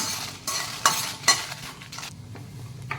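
Garlic and chili lightly frying in a pan, a soft steady sizzle broken by a few sharp clinks and scrapes of a spoon stirring against the metal.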